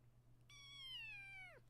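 A single drawn-out cat meow, rising slightly then sliding down at the end, fairly close and clear over a steady low electrical hum with no talking.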